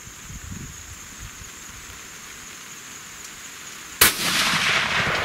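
A single loud 6.5 PRC rifle shot firing a 143 grain ELD-X bullet cracks out after several seconds of quiet outdoor air, then leaves a long rolling echo that trails off.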